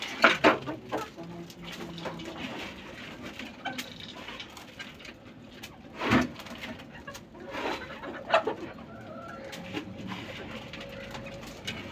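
Chickens being given their morning feed cluck and squawk in scattered, moderately close calls, with clattering and rustling between them and occasional sharp louder bursts.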